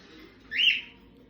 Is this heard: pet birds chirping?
yes